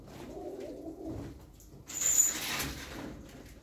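Pigeons kept for sale coo softly and low, a couple of brief murmuring calls close by with faint rustling, no talk.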